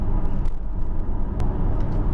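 A 2001 Audi S6 Avant with a 4.2 litre engine gives off a steady low rumble, close and continuous throughout.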